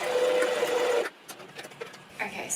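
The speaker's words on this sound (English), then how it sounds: "we're just going to do a little straight stitch down to hold it in place on all of the sides" A sewing machine runs a straight stitch over elastic on a crop top, a steady close whirring hum for about a second that then stops, followed by quiet handling noises.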